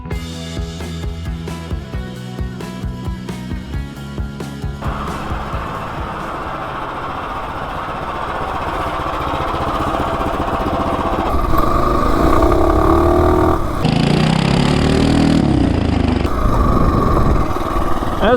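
A 212 Ghost small engine fitted with a 24mm D slide carburetor runs loud and close, starting with a choppy idle, then holding a steady drone before revving harder and climbing in pitch near the end.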